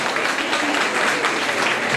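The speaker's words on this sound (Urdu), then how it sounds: "پلیز بھرپور تالیاں بجائیں." Audience applause at a poetry gathering, a dense, steady patter of many hands clapping close by with no break.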